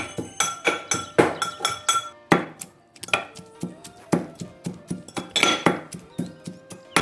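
Green chillies, coriander and garlic are pounded into a paste, a quick run of sharp, ringing knocks at an uneven rhythm, loud and close, with metallic clinks between strikes.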